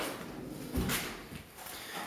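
A soft-close dovetail drawer box shuts in a kitchen with level 3 cabinets, giving one muffled, cushioned thud partway through, with faint room noise before and after.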